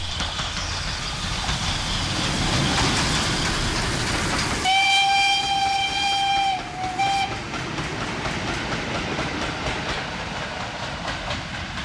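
A steam-hauled freight train passes non-stop through Somerset on a heritage line, its rumble and wheel clatter steady throughout, with a loud sustained horn or whistle blast sounding midway.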